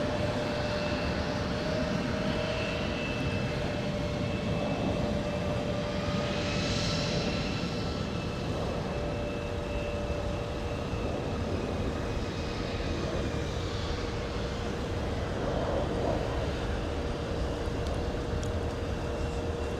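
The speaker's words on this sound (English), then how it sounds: "Republic Airlines with the call sign of Brickyard and another go-around" Republic Airlines jet going around after a missed approach at Minneapolis–Saint Paul airport in winter, a sustained loud engine roar with a steady whine and slowly shifting tones throughout.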